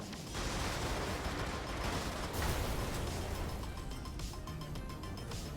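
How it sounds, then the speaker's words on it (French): Explosions and heavy weapons fire roar continuously in the mech combat video game Brigador, a dense, loud wall of blasts and rumbling with no pause. "Les explosions font du bruit et attireront l'attention de l'ennemi."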